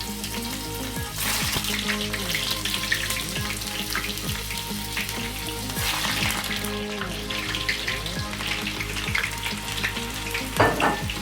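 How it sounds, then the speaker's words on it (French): Onions frying in hot oil while cooking beans, a continuous dense sizzle with occasional stirring scrapes and clatter, close and steady throughout, no speech. "L'huile a chauffé. Je vais mettre les oignons dans de l'huile."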